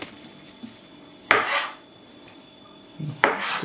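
Dill being chopped with a knife on a board for a classic vinaigrette beet salad, heard as two short bursts of quick cutting strokes with clatter, separated by quiet stretches, fairly close and no talking.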